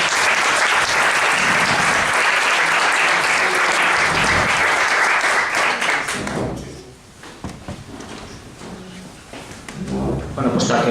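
An audience applauds after a presentation on mapping the bowling grounds of Grau, Asturias. Loud, dense clapping fills the first six seconds, then thins out into scattered claps beneath someone speaking.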